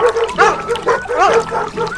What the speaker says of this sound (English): The dogs are having fun in the jungle.